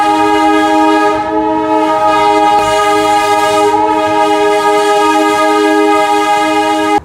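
Darjeeling toy train running steadily and close, its horn sounding as a sustained multi-tone chord nearly throughout, with a rumbling undercarriage beneath and no talk.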